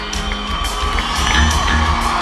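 A concert crowd at an outdoor amphitheatre keeps up steady, loud screaming and cheering, a dense continuous roar of many voices with scattered whoops and yells.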